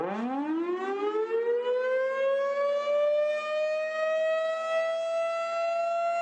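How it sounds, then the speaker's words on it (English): A single-tone civil defense siren winds up from a low growl to a steady, sustained wail that holds loud and unbroken. "First off, you have a single tone siren,"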